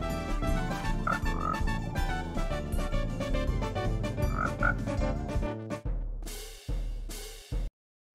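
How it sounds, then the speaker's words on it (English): A frog croaks loudly and steadily over dense musical backing, with the sound dropping out briefly near the end before a final burst and then silence. "Frog clip! Yes!"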